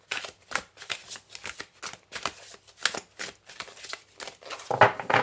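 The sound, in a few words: shuffling oracle cards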